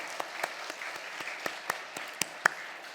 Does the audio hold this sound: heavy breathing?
no